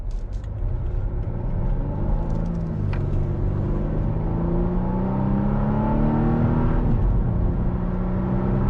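A Volvo V60 T4 engine revs up steadily with a rising whine and low rumble, close and continuous, easing off briefly then climbing again.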